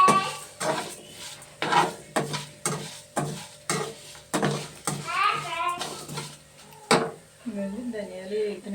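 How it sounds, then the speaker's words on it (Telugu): Coriander seeds dry-roast in a pan, stirred with a spoon in regular scraping strokes about once a second, with a light sizzle and a person talking between the strokes. "ధనియాలు వేగుతున్నాయి కదండి"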